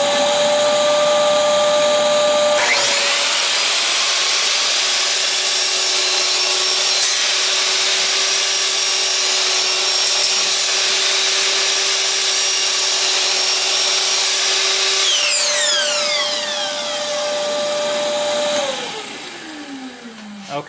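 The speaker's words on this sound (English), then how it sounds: "So I am going to make 3 more cuts on that cedar stock with my new dust shroud on there" A miter saw fitted with a dust shroud cuts through cedar stock: a loud, steady high motor whine with the blade biting the wood for about twelve seconds, then the pitch falls away as the blade spins down.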